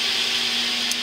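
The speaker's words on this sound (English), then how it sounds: "Sorry about the fan." A fan runs with a steady, loud broadband whoosh and a constant low hum, unbroken for the whole second.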